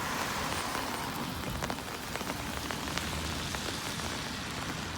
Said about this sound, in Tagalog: Ewan ko kung naririnig niyo yung patak ng ulan dito sa aking payong.